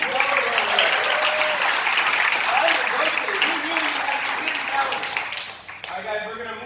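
Steady audience applause at a game-show style event, loud and sustained with cheering voices mixed in, tapering off near the end as a few people start talking.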